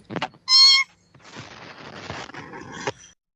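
A person imitates a cat with a loud, drawn-out meow, followed by scraping and rustling noises.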